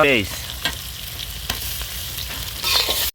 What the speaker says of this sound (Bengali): প্রথমে সয়াবিন তেল তারপর সিঙ্গুর মাছটা ভাজতে নিতে হইবে